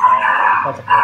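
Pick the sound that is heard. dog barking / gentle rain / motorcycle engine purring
dog barking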